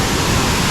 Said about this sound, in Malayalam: 7 സ്പേസിൽ കൂടെ ഇപ്പോൾ വെള്ളം ചാടുന്നുണ്ട്.